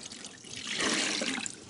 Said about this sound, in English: I'm going to add 1 more gallon of water